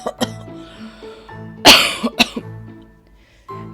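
An old woman coughs inside a hut: a series of close, loud, harsh coughs and throat-clearing bursts in an irregular rhythm, with short pauses between them.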